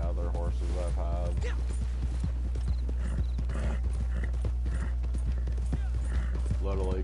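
An Arabian horse's hooves clip-clop in Red Dead Redemption 2 Online, a steady rhythmic trot heard loud and close over a constant game music and ambience bed, with a brief whinny-like tone near the start.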